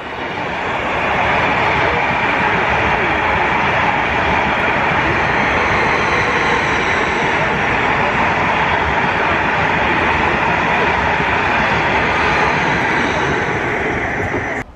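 A train roars past close by, a loud continuous rush of rattling wheels and wind noise that holds steady for the whole stretch, with no talking.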